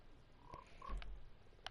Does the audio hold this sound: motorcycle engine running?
no